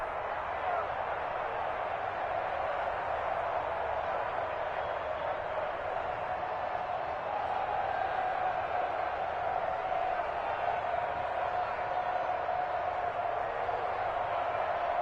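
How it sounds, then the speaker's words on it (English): Steady crowd roar from a stadium audience in an American football video game during a fourth-quarter third down, a dense continuous wash of cheering throughout, with commentary voices over it. "the crowd getting into it as we come up on a big third down"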